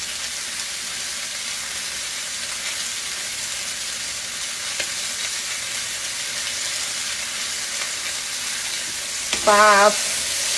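Zucchini, mushroom and onion sauté in butter in a pan, giving a steady close sizzle that continues throughout, with a brief spoken word near the end.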